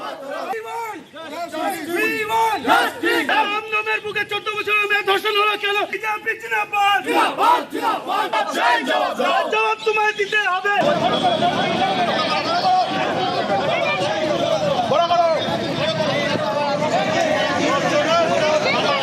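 Crowd of BJP protesters shouting and chanting at a road blockade on Jessore Road in Dum Dum, loud and continuous, with a dense roar of massed voices throughout.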